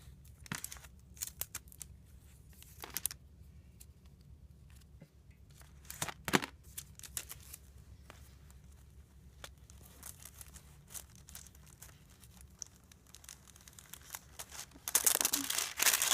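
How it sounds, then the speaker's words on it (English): Adhesive tape is pulled and wrapped around a bundle of pom poms, giving faint intermittent tearing and crinkling sounds, with a louder crinkly rustle near the end. "I'm going to try this and just wrap the tape around this and hope that it works."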